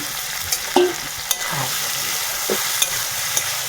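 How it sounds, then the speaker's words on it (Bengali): Vine stalks frying with black cumin in a pan give a soft steady sizzle, broken by a few sharp clinks of stirring against the pan and no voices. "তুলে ভাজাভাজি করবে।"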